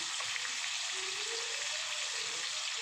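Sliced boiled taro fries in a hot pan for a vegetarian taro and potato curry with nigella seeds, giving a dense, continuous close-up hiss of oil with no pauses.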